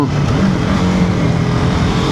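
BMW F 450 GS Trophy motorcycle being ridden, a steady loud engine drone mixed with wind rush, continuous throughout without pauses.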